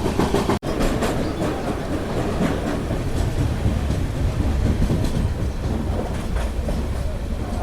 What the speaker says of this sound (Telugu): ఇక్కడ మనకు వచ్చేసి బ్యూటిఫుల్ WIP7 లోకోమోటివ్ అయితే మనకు టాటా నగర్ ఎర్నాకుళం ట్రైన్ అయితే వెళ్తుంది.